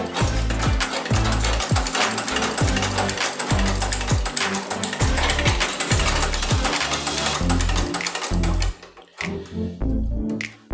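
A shoe-repair sewing machine stitches steadily after being threaded and tuned, a loud fast mechanical clatter with rhythmic thumps, running continuously before slowing and stopping near the end.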